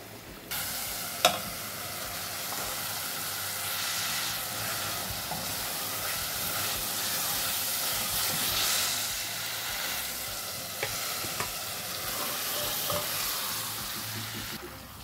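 Chicken curry reheating in a pan gives a steady, moderate sizzle, with a few sharper scrapes and clinks as it is stirred. There is no talking.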